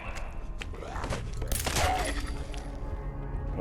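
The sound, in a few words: gunshots from a video game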